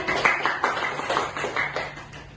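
Classmates clap for their peers in a classroom, a short burst of scattered hand claps, moderately loud and close, with faint voices underneath.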